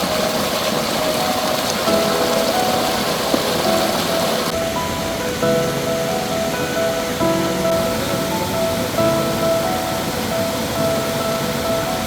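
A rain-swollen monsoon waterfall over Oliyath Para rock at Mudavannur, Mezhathur, in Thrithala, roaring as a loud, steady, unbroken wash of rushing water close by.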